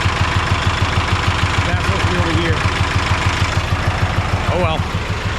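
A repaired car engine idles steadily after an oil leak fix, a loud even pulsing rumble close by, with a voice heard faintly over it.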